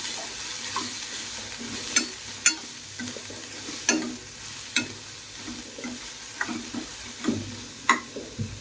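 Sliced onions frying in a pan for kurma sizzle steadily while a spoon scrapes and stirs them in irregular strokes, close and clear, with no talking.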